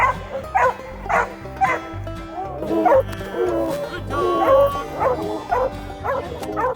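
Multiple coonhounds bay continuously, their long mournful howls overlapping in an uneven rhythm, moderately close with no talking.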